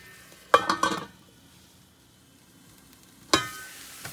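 Paneer curry sizzles in a pan, heard as two short bursts of frying hiss with faint clinks of a utensil. The pan stays nearly silent for a couple of seconds between them.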